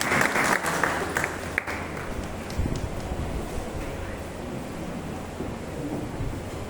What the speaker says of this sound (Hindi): चलिए दोस्तों, एक बार सर के लिए जोरदार ताली।